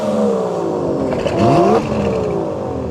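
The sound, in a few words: Aston Martin DB11 V12 engine revving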